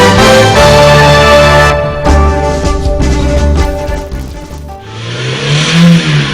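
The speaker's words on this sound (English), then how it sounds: "Can you hear that? It's the sound of your engine going the extra mile" A car engine revs up loudly and steadily, its pitch climbing and dipping as the throttle swells, then easing off before building again, heard close and on its own.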